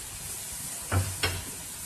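Chili sauce sizzling in a frying pan while macaroni is cooked, a steady soft frying hiss with two brief louder splashes or stirs near the middle, no talk.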